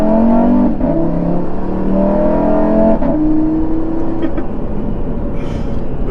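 A 2016 Audi RS3's 2.5-liter turbocharged five-cylinder engine runs loud and close, its note climbing in pitch through steady revving across the whole stretch, with no voices.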